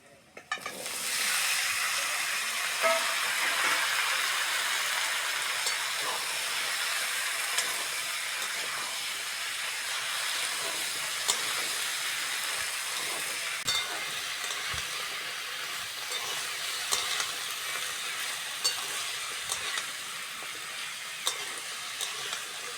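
Mixed vegetables fry in a hot pan with onion, dried red chilli and bay leaf for a fish-head chochori, a loud, steady hiss and crackle that runs unbroken, with occasional faint clinks and no voices.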